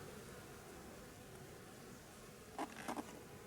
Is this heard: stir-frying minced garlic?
no